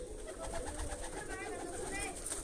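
Pigeons coo softly amid a dense flock's rustle and chatter, with people talking faintly in the background throughout.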